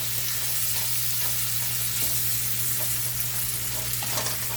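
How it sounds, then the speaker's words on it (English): Thick Szechuan beef sauce is stirred around a hot pan, with a loud, continuous sizzle and faint scraping throughout. "And you're just going to stir it around"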